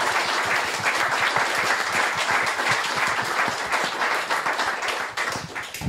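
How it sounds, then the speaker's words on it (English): A club crowd gives a sustained round of applause for a helpful club man, steady, full and dense clapping from many people that holds strongly throughout before easing slightly near the end. "So round of applause for Jib for letting him do that"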